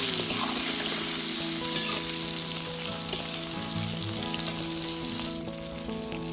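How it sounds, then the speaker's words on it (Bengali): Oil sizzles steadily as eggplant fries in a pan, a continuous bright crackle close up with no voices. "এবার বেগুনগুলোকে ভালোভাবে ভেজে নেব।"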